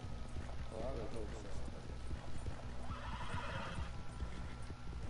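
A horse whinnies in the video game Red Dead Redemption 2, with hoof clops and moving water in the background and a voice talking over it.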